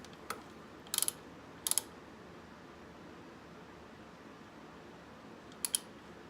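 A ratchet wrench tightens bolts over a gasket on a minichopper minibike, giving a few short bursts of quick close clicks separated by quiet stretches.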